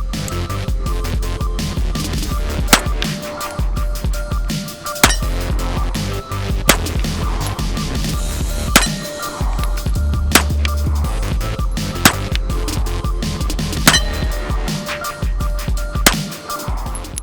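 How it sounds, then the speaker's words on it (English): A Girsan MC1911C .45 pistol fires a slow string of single rounds at a target, each shot a sharp loud crack spaced a second or two apart over steady background noise. "We're gonna put a few rounds on target and hopefully I can hit it this time."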